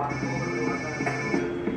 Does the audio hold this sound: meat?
no